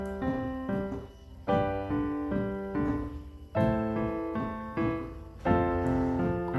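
Piano chords in a left-hand exercise where the sustain pedal is lifted too early, so each held chord cuts off with short gaps of near-silence before the next, heard alone with no talking.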